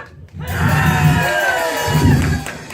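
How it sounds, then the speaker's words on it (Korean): Crowd cheering and shouting loudly at an outdoor traditional Korean pumba performance in Hampyeong, a sustained wave of voices swelling twice, with a few higher shouts standing out. "자, 이쪽 박수 함성."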